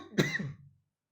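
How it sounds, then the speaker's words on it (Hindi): One short throaty cough, close and clear, then silence. "खांसी हो गया है"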